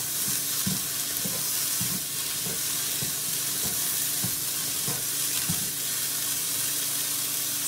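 Cauliflower sizzles and fries in a wok with a steady hiss, broken by regular scraping knocks of stirring roughly every half second.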